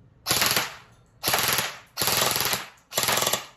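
An LT 19T G2 gel blaster fires full auto in four loud, rapid bursts, each lasting under a second with short pauses between them.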